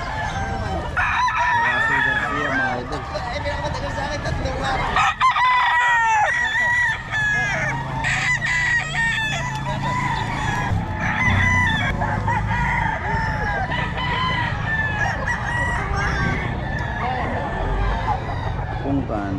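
Roosters crow repeatedly and chickens cluck throughout at a busy chicken market in Bocaue, with layered calls from birds near and far and people talking in the background.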